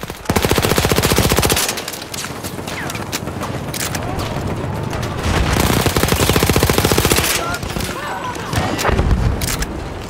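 Gunfire in Battlefield 1 online Rush mode on Xbox One, with older-era weapons: loud, rapid bursts of automatic fire and scattered shots rattle close by across the whole stretch, with a player talking over parts of it.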